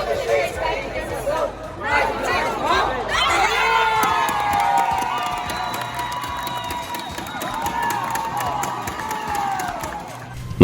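A home futsal team celebrates winning a championship in a sports hall, with loud, sustained group shouting and cheering, high excited voices rising together, and crowd chatter and scattered applause around them.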